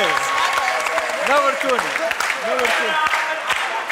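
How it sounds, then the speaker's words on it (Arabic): Studio audience on a Tunisian TV show applauding the host's colleagues, a sustained burst of clapping under the host's loud, animated talk. "قبل كل شيء نحب نعاودوا صفقوا على زملائي بالله"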